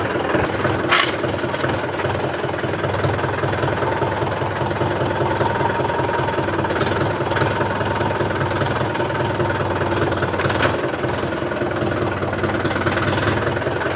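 The engine of a five-year-old 475 tractor runs steadily at close range, a continuous loud rumble with a knocking, idling character and a few brief clanks.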